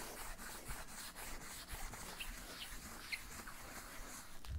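Excess material is rubbed off a hard-burnished surface by hand, giving soft, rhythmic scrubbing strokes, quiet and close, with faint birdsong behind.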